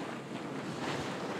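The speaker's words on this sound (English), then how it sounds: "there's no wind still, so we're motoring" A sailboat motors under engine across a calm sea off Maine, giving a soft, continuous wash of water and wind rush at close range, with no talking.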